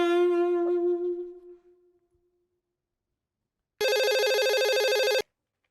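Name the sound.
landline telephone ringing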